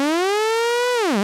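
A steady GForce Oberheim OB-1 synthesizer tone with rich harmonics, modulated by a sine-wave LFO, slowly rises in pitch, then swoops down and back up at the end, loud and alone.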